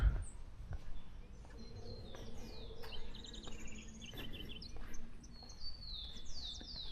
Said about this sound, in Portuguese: Só a sinfonia dos pássaros e essa tranquilidade.